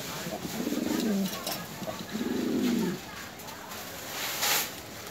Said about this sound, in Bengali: একটু কবুতরগুলো দেখি